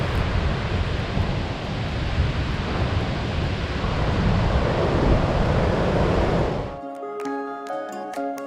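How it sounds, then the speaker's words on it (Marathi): Sea waves wash onto Achra beach on a rainy day, a steady, loud broadband roar of surf and wind that runs unbroken for several seconds before giving way abruptly to tonal music at the end. "आता आपण पाहू शकतो अतिशय स्वच्छ आणि सुंदर हा आचऱ्याचा समुद्र किनारा"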